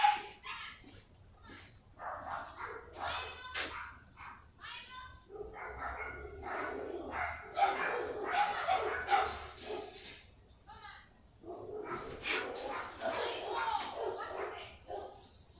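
Two neighbour's dogs bark and yip at each other through a fence. The repeated barks come in bursts from a moderate distance, partly under someone talking nearby.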